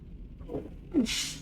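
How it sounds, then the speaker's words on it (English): A single sharp sneeze bursts out close by near the end, short and breathy, following a few soft vocal sounds in an otherwise quiet room. "That sneeze hit me faster than I thought it would."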